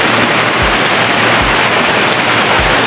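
Heavy rain pours down in a dense, loud, unbroken hiss, with a few low thumps now and then underneath.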